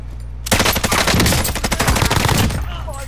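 Sustained automatic gunfire in the video game Warzone, a loud rapid burst of shots lasting about two seconds after a brief quiet start.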